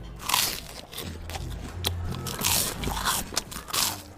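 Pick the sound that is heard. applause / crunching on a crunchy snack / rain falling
crunching on a crunchy snack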